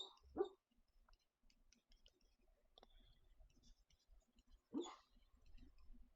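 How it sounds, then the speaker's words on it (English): A sleeping female dog whimpers and cries in short, soft bursts, two brief yelps about four seconds apart with faint snuffling and rustling between them, fairly quiet and indoors. "My dog's crying in her sleep."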